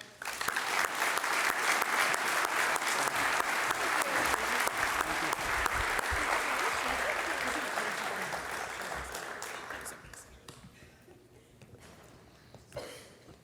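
An audience at a high school senior awards night applauds the award recipients, a dense sustained round of clapping that holds strong for about ten seconds before thinning out and fading, with a brief late burst.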